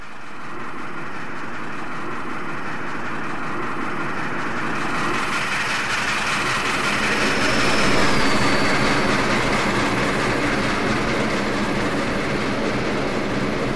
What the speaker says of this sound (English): the train passes through Breakneck Ridge Tunnel